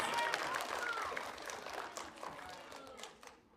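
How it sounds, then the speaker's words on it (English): A school assembly audience claps for students, a dense patter of applause that starts strong and gradually thins and fades out near the end. "Can you guys give them a round of applause,"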